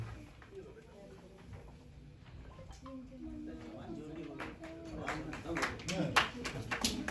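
An audience at a birthday celebration program begins clapping, the claps building louder toward the end, while a voice talks over it.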